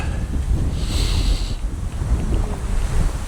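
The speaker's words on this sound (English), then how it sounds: "The trees are blowing like a hoolie up here." Strong gusting wind through trees on a high spot, a steady broadband roar with low buffeting rumble throughout and a brief brighter hiss in the middle.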